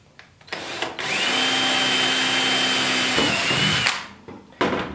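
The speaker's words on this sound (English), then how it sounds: "Now we can drill our second one." A power drill whirs steadily for about three seconds, close and loud, boring a 3/16-inch hole in a plastic 5-gallon bucket, spinning down at the end, with brief handling clatter before and after.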